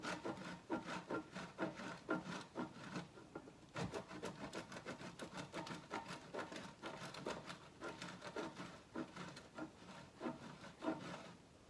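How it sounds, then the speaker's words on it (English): Fresh, aged Parmesan cheese is grated by hand in a steady run of quick rasping strokes, rhythmic and quiet but close, with no talking. "I'm gonna grate fresh Parmesan"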